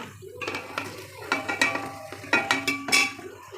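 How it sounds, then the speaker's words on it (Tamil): Chopped tomatoes tipped into a pot of fried onions for a quick kuska biryani, with several soft clattering impacts and scraping stirs against the metal, close and moderately loud, and no talking. "இப்போ நம்ம இதில் தக்காளி போடுறோம்."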